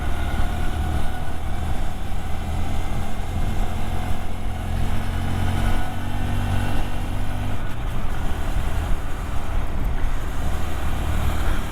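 Steady engine drone and wind rush of a Honda MSX125 motorcycle riding along a road, continuous and close throughout with no speech.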